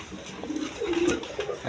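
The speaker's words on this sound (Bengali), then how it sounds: "আরেক পেয়ার দুধ খাকি কবুতর" A single brief, soft coo from a pair of Dudh Khaki pigeons, heard up close against a quiet background.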